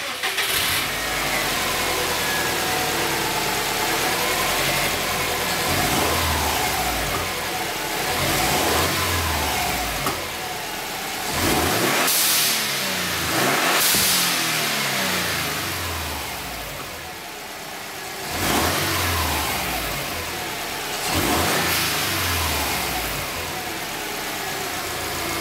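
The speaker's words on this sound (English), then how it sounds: "a clip from my old WRX showing you exactly how that valve behaves as you're returning to idle" A Subaru WRX engine revs and drops back toward idle several times, each fall in revs broken by a whooshing blow-off valve release. The car is heard close and loud throughout, with no talking.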